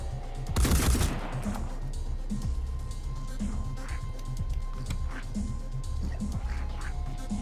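A gunshot from the tactical strategy game Phoenix Point, one loud sharp blast near the start followed by a fading rumble, then quieter ambient game sounds with small scattered noises.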